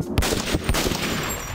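AK-47 fire in a first-person war video game, with several loud rifle shots in a short burst against steady background battle noise, and no talking.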